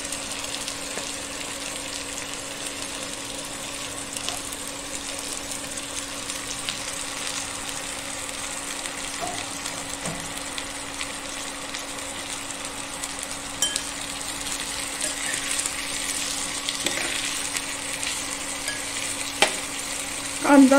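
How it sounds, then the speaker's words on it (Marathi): Onion and slit dried red chillies frying with cumin in a pan, a continuous close sizzle with occasional soft stirring clicks and scrapes, growing slightly busier toward the end, with no voices. "हे आधी आपण त्याच्यामध्ये कांदा भाजूया,"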